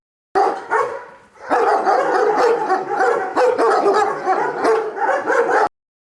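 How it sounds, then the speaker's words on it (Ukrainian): Police dogs bark at a new dog training centre in Lviv: loud, close, repeated barks and yips in quick irregular bursts, with a short pause near the start. "У новому львівському кінологічному центрі чотирилапі поліцейські навіть гавкають веселіше."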